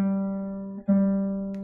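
A guitar string rings steadily and then briefly dips in pitch as the tuning gear turns, bringing it up to pitch before it rings on, sustained and close with no talking.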